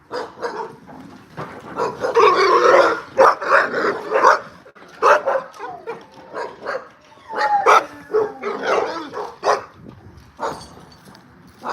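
Dog barking in repeated loud bursts, clustered barks with short yips and whimpers between them, fairly close, pausing briefly before resuming.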